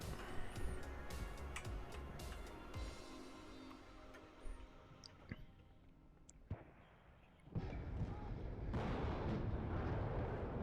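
Mortar and artillery fire in the real-time strategy game WARNO, repeated booming launches and impacts with sharp cracks at irregular intervals over a dense, rumbling battlefield din.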